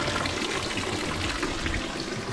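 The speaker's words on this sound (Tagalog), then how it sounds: "tubig na yan guys" A fountain gushes and splashes steadily at night in Salzburg, a constant close rush of flowing water without pause.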